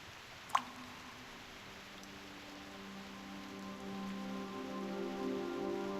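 Rain falling in the video game Reverse 1999, a soft steady patter with a single sharp drop-like tick near the start, accompanied by a quiet sustained tonal drone that slowly builds.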